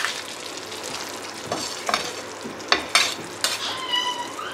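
Mutton is stir-fried kosha style in a pan, with a continuous close sizzle broken by scraping strokes of a spatula and a few sharper clinks against the metal.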